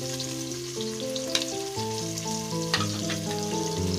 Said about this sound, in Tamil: இப்போ வெங்காயம் கொஞ்சம் வதங்கட்டும்.